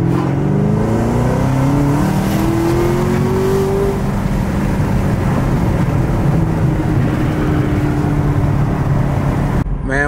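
A 2022 Chevrolet Camaro ZL1 1LE with a manual gearbox accelerating hard, its supercharged engine roaring loud and close from the cabin, pitch climbing steadily through a gear before cutting off abruptly at the end.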